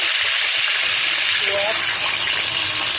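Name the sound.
whole garam masala sizzling in hot oil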